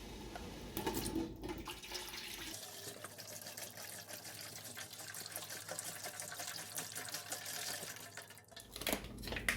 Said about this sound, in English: next we're going to add our 900 milliliters of beef broth